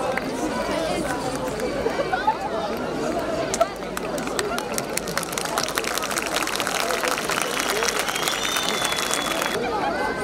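A large outdoor crowd at a Marmaris Republic Day celebration applauds, with dense, continuous clapping that swells and grows sharper toward the end, mixed with crowd chatter and voices.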